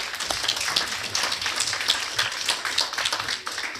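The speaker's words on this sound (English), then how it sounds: "Let's clap for him." An audience at a conference on South-South and triangular cooperation claps steadily for the outgoing secretary general. The applause is moderate in volume and continuous, with individual claps standing out in an even rhythm.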